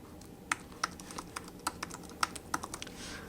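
Keystrokes on a computer keyboard as test card details are entered into a payment form, a quick run of clicky taps with a few sharper, louder strikes, close and alone.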